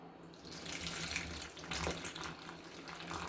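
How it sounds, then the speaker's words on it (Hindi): Water pours steadily into a bowl of flour and cornflour for a potato nugget batter, a continuous close splashing trickle with no talk. "अब मैं इसमें पानी मिक्स कर दूँगी।"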